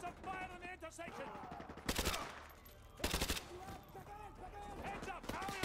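Gunfire in Call of Duty Modern Warfare 2 Remastered during an urban firefight, with two loud bursts of shots standing out over steady battle noise, game music and voices talking throughout.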